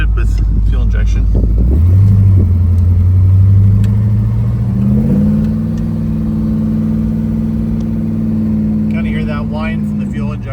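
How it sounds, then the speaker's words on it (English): A fuel-injected 1967 Dodge Coronet 500 restomod with a four-speed automatic and overdrive pulls forward, its engine droning loud and close as the pitch rises through a shift and holds with a slight whine, with talk over it. "That whine from the fuel injection a little bit."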